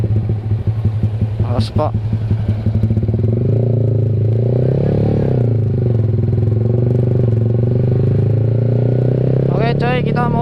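A Yamaha R15 V3 motorcycle fitted with an SC Project exhaust idles and rumbles loudly close by, with a brief rev blip early on, while a person speaks briefly over it.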